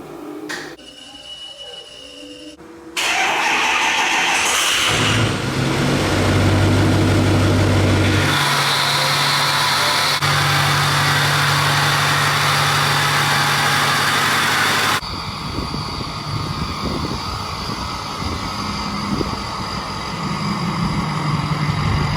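A Ford 6.0L Power Stroke diesel truck, squatted, starts and runs loud and steady close by, with a deep low rumble through an idle and revving stretch, then a rougher, busier engine tone as it moves off the hoist.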